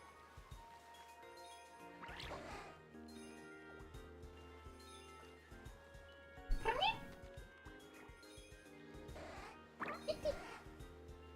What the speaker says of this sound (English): I think I heard Kitty